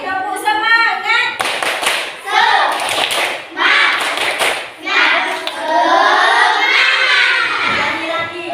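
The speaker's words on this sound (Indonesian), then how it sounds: "Oke, tepuk semangat." Children perform the rhythmic 'tepuk semangat' clapping chant in a classroom, sharp claps in quick patterned bursts mixed with loud chanting voices filling the whole stretch.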